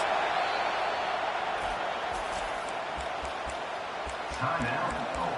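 A college football stadium crowd roars in a sustained wash of cheering for the defense on a big third down, Ohio State against Penn State, with a broadcaster talking and thumping sounds underneath.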